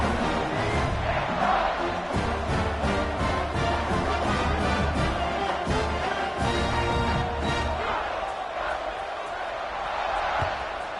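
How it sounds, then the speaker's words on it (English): In an American football video game, a stadium crowd roars at the kickoff, a steady dense rumble of many voices that holds for the whole stretch and eases slightly toward the end. "They're set to kick it off, and this crowd now ready to get behind them."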